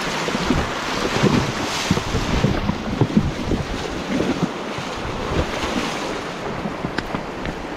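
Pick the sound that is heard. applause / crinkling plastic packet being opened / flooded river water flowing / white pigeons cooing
flooded river water flowing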